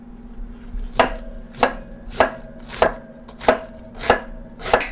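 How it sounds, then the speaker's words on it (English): A knife chops through cabbage on a cutting board, eight sharp, evenly spaced thuds about every half second, close and loud with no talking. "So just cut that away. And then just start cutting."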